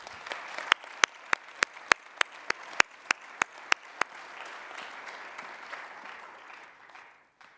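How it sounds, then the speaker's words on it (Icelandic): Applause at a sports awards ceremony in Akureyri, Iceland: a handful of loud, sharp individual claps in a slow, even rhythm over softer crowd clapping that keeps going and then fades out. "Gefum honum gott klapp."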